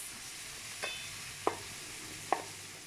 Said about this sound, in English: And then I'm going to give it a very good mix.